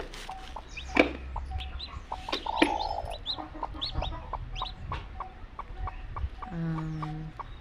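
A mother country hen clucks in short, repeated calls close by, mixed with high peeping from her newly hatched chicks, alone and fairly soft.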